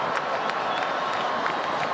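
A baseball stadium crowd at a 2009 Red Sox game stands and applauds late in a long night game, a steady wash of distant clapping and cheering with scattered sharper claps.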